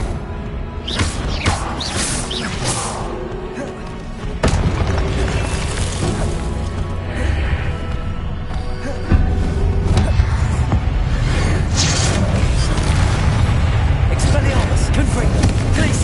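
Spell blasts and explosions from the Hogwarts Legacy video game, dense bursts of booms and crashes layered over continuous game sound, loud and steady, with no speech.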